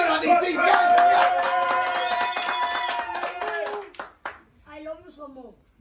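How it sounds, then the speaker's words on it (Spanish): Clapping and cheering for Pío la Distinguida, a steady burst of hands clapping under loud voices and music-like tones for about four seconds, then fading into speech. "Un aplauso para Pío, la distinguida."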